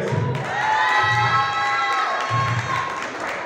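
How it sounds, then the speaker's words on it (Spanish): An audience at a wrestling promotion's awards announcement cheers and applauds, a loud, dense crowd roar with whistles and shouts running through the whole stretch. "El primer aplauso es para todos ustedes."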